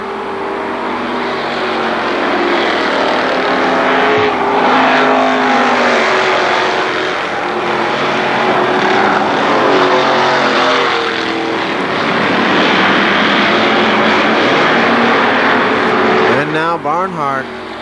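Race cars run side by side through the turns at Kil Kare Speedway's Labor Day Championships, one smoking a right rear tire, their engines a loud, continuous, swelling roar under steady commentary.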